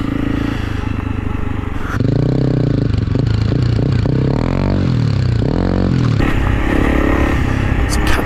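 A Honda CRF300 Rally motorcycle rides off-road with the clutch loaded. The engine revs loudly and close, the pitch rising and falling in surges over scraping and clatter.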